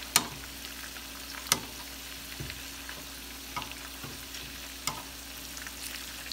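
Meatballs frying in a pan, giving a soft steady crackle with a few sharp spatter pops and light scraping, close and fairly quiet, no talking.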